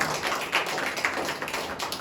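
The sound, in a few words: congregation clapping loudly for God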